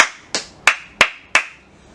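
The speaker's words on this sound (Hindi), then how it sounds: "तालियां।" Four sharp, evenly spaced hand claps ring out alone in a quiet room, each crisp and followed by a brief decay, welcoming a speaker at an astronomy talk.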